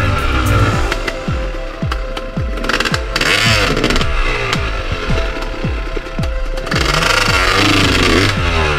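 Motorcycles roar and rev close by as they cross a landslide in Magallanes, Cavite, with repeated throttle bursts, rising and falling engine pitch and scraping over rough ground.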